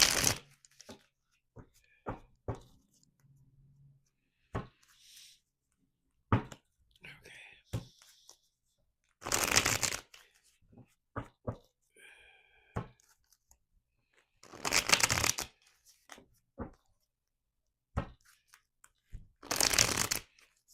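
Tarot cards shuffled by hand in repeated bursts of riffling and flapping, separated by quiet pauses, with faint whispery voice sounds and small clicks between them, close and fairly soft.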